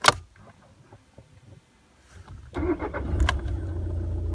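A car engine cranks and catches with the brake pedal held down, a loud starter whir rising into a steady running rumble after a quiet pause, heard close up.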